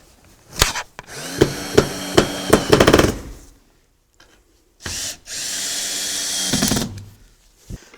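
Hammer taps starting screws into a gable cleat for a ClickLock installation, a run of about five sharp knocks followed by a loud, steady power-drill whir driving the screws home, close and without talking.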